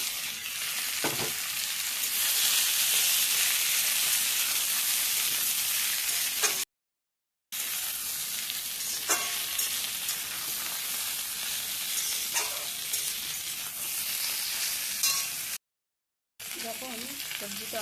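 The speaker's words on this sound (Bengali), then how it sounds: "ভেজে নিয়ে সবজিগুলো এক এক করে দিব" Vegetables sizzle steadily in hot oil with mustard in a pan, a loud continuous frying hiss with occasional stirring scrapes, broken by two brief silent gaps.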